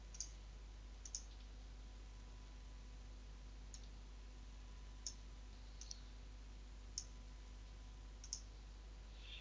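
Sharp, quiet computer mouse clicks at a desk while working in Excel, about half a dozen single clicks spaced a second or so apart over a constant low electrical hum.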